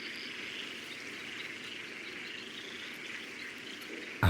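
European tree frogs call steadily from a reed bed, a dense continuous chorus of raspy pulses with no talk over it.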